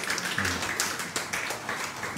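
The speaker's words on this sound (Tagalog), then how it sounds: "Palakpak sa Lord na buhay." A church congregation at an anniversary service claps together, a dense patter of many hands sounding moderately loud and continuous for a couple of seconds.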